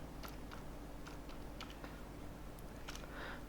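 Code being typed on a computer keyboard while working in Asp.Net C#, with quiet irregular keystrokes tapping in short clusters over a low steady hum, no voices.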